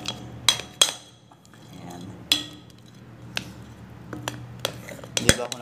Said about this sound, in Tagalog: Mix lang natin.